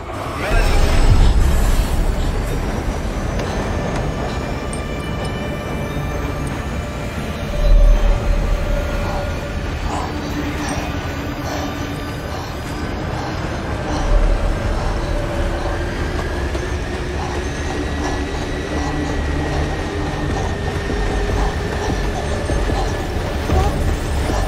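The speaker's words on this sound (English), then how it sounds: "Get aboard the train." The Big Alice train in the game Stormworks rolls along with a steady mechanical rumble, rhythmic clatter and long metallic squeals, continuous and fairly close, with a voice speaking at times.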